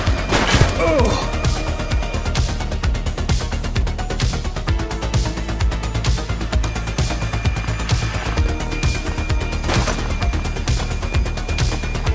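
Gunfire in the police game The Precinct, rapid bursts of sharp shots and impacts with crashes, loud and close, mixed with game sounds and voices talking.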